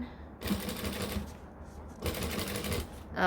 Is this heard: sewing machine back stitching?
yes